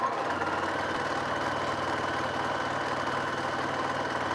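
A sewing machine stitching half-square-triangle quilt pieces runs with a continuous, even mechanical hum and fast rhythmic pulsing, alone and steady throughout.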